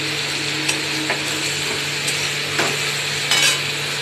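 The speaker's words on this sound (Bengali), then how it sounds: "একটু নাড়াচাড়া করি" Ground spices and cut gourd are stirred in a cooking pan over a steady sizzle and hum, with occasional soft scraping strokes of the utensil against the pan.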